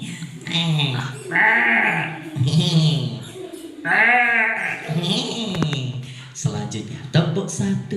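Goats bleat repeatedly in wavering, nasal cries, close by, while people talk over and between the calls.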